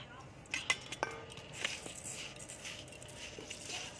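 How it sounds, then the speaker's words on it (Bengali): Rice being washed in a bowl, heard as quiet, close clinks and light scraping against the bowl with a soft wet swishing underneath. "চালটা এবার আমি ভালো করে ধুয়ে নেব।"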